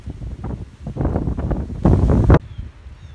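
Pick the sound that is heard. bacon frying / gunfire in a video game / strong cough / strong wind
strong wind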